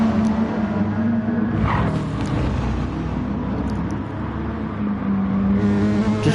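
Race car engine in a PS4 racing game revving steadily at close range, a continuous droning rumble with a brief rise as it shifts up through the gears, no talk over it.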